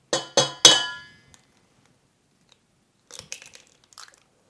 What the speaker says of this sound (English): The next thing we need to do is crack in 1 egg.